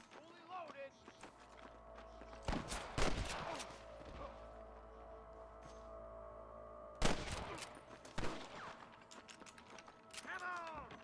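Bursts of gunfire in Red Dead Redemption, with two dense volleys of rapid shots amid scattered single cracks and horse hooves, under shouted voices.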